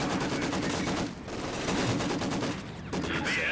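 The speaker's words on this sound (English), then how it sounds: "I've run into the machine gun and can't do much." Machine gun fire from a Maxim in Company of Heroes 2, sustained rapid bursts with brief pauses between them, loud and dense throughout.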